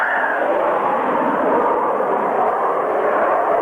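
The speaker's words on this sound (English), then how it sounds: "Jet noise, the sound of freedom." Loud jet fighter engine roar at a Cranfield classic jets airshow display, a steady, dense rush of noise that holds at full strength throughout with a slight shift in tone early on.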